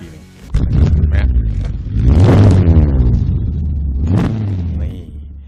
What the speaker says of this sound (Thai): อันนี้เป็นเสียงมอไซค์เป็นหลักนะครับ